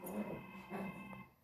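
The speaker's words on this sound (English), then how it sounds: "Sorry if you guys hear the dogs." Dogs growl and whimper faintly in the background of a room, a low rumbling with brief soft whines over quiet ambience.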